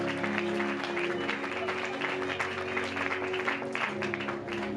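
A church congregation applauds and cheers continuously, a dense, steady wash of clapping under a sustained musical backing, with no gaps throughout.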